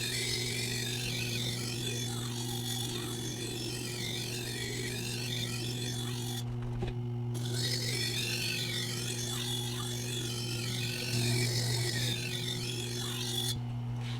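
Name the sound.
knife blade sharpened on 80 grit diamond plate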